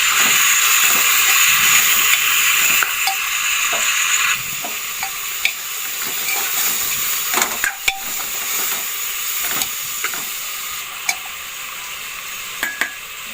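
Chicken masala being stirred in a pan sizzles and hisses steadily, with occasional scraping clicks of the spoon against the metal, close and fairly loud throughout.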